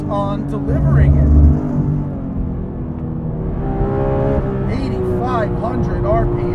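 A Porsche 911 GT3 RS 4.0 flat-six revs hard while driving, the engine note rising and falling with shifts, loud and close from the cabin, with someone talking over it.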